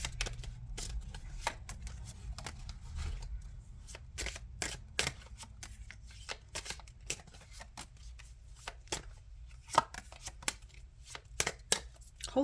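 Tarot cards being shuffled during a pick-a-card reading, giving repeated crisp riffling and flicking bursts in an irregular rhythm over a low steady hum, fairly close and moderately loud, with no talking.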